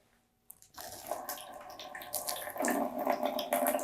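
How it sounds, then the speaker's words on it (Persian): Water spurting from holes at different heights in a container during a fluid pressure demonstration, a steady splashing gush that starts abruptly and then runs on continuously. "از سوراخ پایینی آب بیشتر فوران میکنه، از سوراخ بالایی آهسته تر فوران میکنه"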